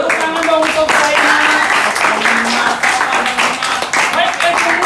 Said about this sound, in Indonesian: Beri tepuk tangan dong untuk Saima.